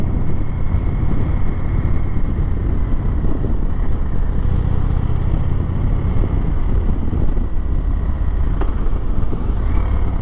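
A 2021 Indian Chief Dark Horse motorcycle on a test ride along a leisurely road, with a steady loud engine drone and heavy wind rush from the rider's position, continuous and unbroken.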